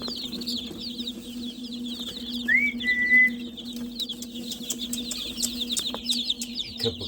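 Silkie and Ameraucana chickens fill a coop with continuous soft clucking and chirping, with a single whistled note rising in the middle over a steady low hum.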